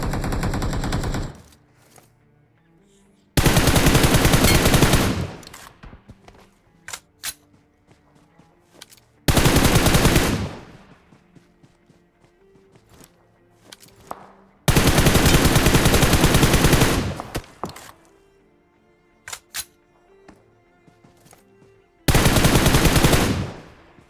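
Gunfire in the mobile battle royale game BGMI, with long loud bursts of automatic weapon fire repeating every few seconds, separated by quieter stretches of scattered single shots and game sounds.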